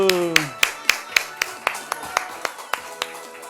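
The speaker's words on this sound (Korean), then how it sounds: "박수." A church congregation clapping in steady unison rhythm, about a dozen sharp, evenly spaced claps as children are sent off with a blessing, following a brief spoken voice at the start.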